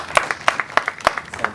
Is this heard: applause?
yes